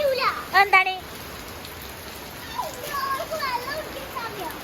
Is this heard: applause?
no